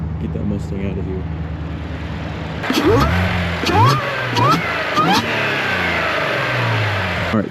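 A supercharged Audi S4 V6 engine revs and accelerates past, rising and falling in several loud surges with supercharger whine, following a quieter idling stretch with people talking.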